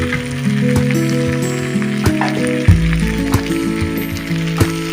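Chopped tomato and green chili hitting hot oil in a pan, crackling with small scattered pops and a sudden louder burst of sizzle midway, while a steady tonal hum runs underneath.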